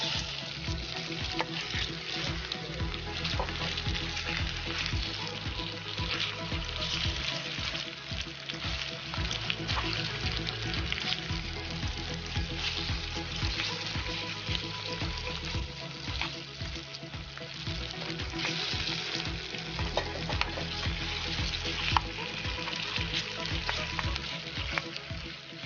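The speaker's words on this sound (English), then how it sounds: "now we're going to add our chicken into our pan with a little bit of oil" Continuous sizzling and crackling of chicken frying in hot oil in a pan, steady and close, with a low background hum throughout and no talking.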